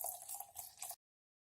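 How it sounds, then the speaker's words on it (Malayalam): Water is poured into squeezed tamarind and green chillies in a Kerala village kitchen, a short, quiet trickling splash lasting about a second before it stops abruptly. "ആവശ്യത്തിന് വെള്ളം ഒഴിച്ചു കൊടുക്കാം."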